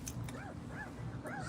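A puppy indoors giving a few short, high whimpering yips in quick succession over a steady background hum.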